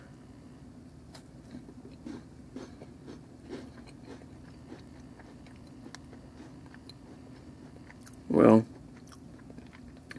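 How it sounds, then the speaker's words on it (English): Soft, regular crunching bites close to the mic, chewing crunchy Keebler Jif peanut butter cookies, with a louder crunch near the end and a brief spoken word. "There's good crunch there."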